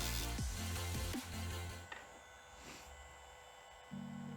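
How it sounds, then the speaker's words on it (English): A Dremel rotary tool on its lowest speed grinds down a plastic model hanger, giving a steady electric whine and hum with a brief dip and restart partway through. "I'll just take a Dremel, put it on as low as the setting as it'll go, and just carefully grind"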